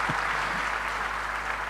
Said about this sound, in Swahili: Simunipigie makofi